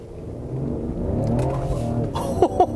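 A 2020 Ford Explorer ST in sport mode is floored, its engine note rising steadily through a loud full-throttle pull, heard from inside the cabin, with a few knocks and clicks near the end.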